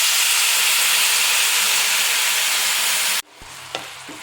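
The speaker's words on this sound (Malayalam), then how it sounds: "അപ്പോൾ ഇതിലേക്ക് നമുക്ക് ശർക്കര ഉരുക്കി വെച്ചിരുന്നത് ഒഴിച്ചു കൊടുക്കാം." Melted jaggery poured into hot ghee in a pan, a loud, dense, steady sizzle and hiss that cuts off abruptly into quieter kitchen sounds with a faint clink.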